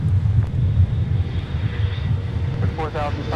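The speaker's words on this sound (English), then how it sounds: "runway 30 left, clear for takeoff" At Minneapolis–Saint Paul airport, an airplane taking off from runway 30 left sends a low, rumbling engine drone that stays constant and fairly distant, with tower radio speech heard over it.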